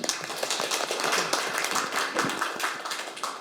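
A seminar audience gives a round of applause for a current-affairs commentator, a moderately dense patter of claps in a room, steady and somewhat distant with no talk over it.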